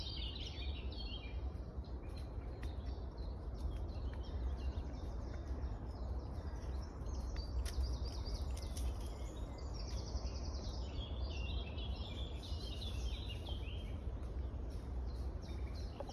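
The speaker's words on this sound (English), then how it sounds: "I'm going to stop talking, just listen to the bird song." Faint birds chirp and sing in bursts above a steady low rumble of distant traffic, with no talking.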